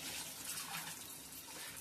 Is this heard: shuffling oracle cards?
no